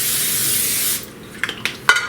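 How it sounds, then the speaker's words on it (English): An oil spray can hisses in a sustained burst over deviled eggs in an air fryer basket, then a few short spritzes follow, close and clear with no talking. "Now we're going to spray the other sides that we didn't spray before."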